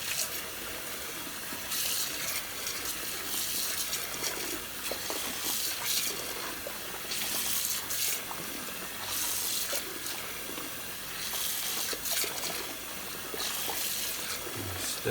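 Slightly warm water runs steadily from a tap over a Hoover Junior Dirtsearcher vacuum cleaner bag being washed, a continuous close hiss that swells in loud splashing bursts as the flow hits the bag.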